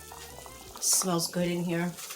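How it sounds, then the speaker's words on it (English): A pot of beans at a rapid boil bubbles softly in a home kitchen, a faint steady simmering hiss beneath a person speaking briefly. "Oh, they're at a nice rapid boil."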